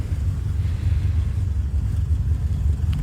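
1985 Chevrolet Corvette coupe engine idling after a restart, a steady low rumble with a slight choppy pulse, heard close with no talk.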